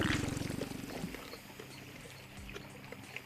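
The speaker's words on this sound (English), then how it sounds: "And here it comes, another thunderous blast of gas." A thunderous cartoon fart sound effect from an Ankylosaurus dinosaur by a peaceful river, loud and sputtering low at the start, then trailing off into a deep rumble over faint outdoor water ambience.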